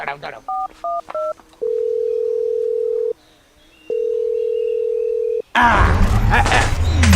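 A phone call is placed: a short run of keypad tones, then two long steady ringback tones with a pause between, cut off by a loud burst of noise at the end.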